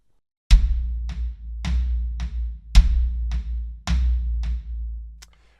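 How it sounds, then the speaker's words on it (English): A drum kit plays steady eighth notes on the floor tom, with the bass drum landing on beats one and three. The hits come as clear, booming strokes at a moderate tempo for about four beats, with no voices. "we're going to start by firstly playing 8/8 notes on the floor tom."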